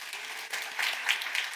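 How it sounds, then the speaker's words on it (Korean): Brief applause from a church congregation at a young adults' worship service, a soft steady patter of clapping hands with a few louder swells, heard from a moderate distance. "박수 한번 주세요."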